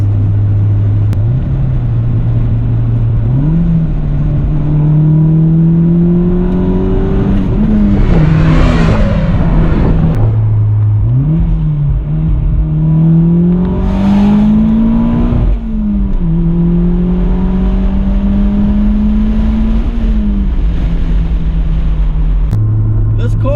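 A 1993 Toyota MR2 Turbo engine revs and accelerates through several gears, pitch climbing then dropping at each shift, loud and close with a steady rumble underneath and people talking at times.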